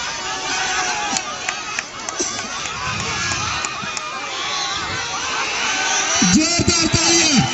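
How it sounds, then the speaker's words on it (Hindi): Spectators at a village kabaddi match in rural Raigarh roar and shout continuously, a dense crowd clamor with scattered bursts of cheering and yells swelling toward the end. "जोरदार तालियां।"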